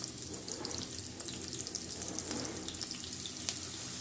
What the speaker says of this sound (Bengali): পেঁয়াজগুলো খুব ভালো করে নাড়াচাড়া করে নিব, যেন সমানভাবে এটি ভাজা হয়